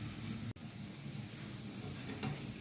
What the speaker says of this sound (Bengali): আর এটিকে ভালো করে আমি কষাবো যতক্ষণ না এই মিক্সচার থেকে তেল বেরিয়ে আসে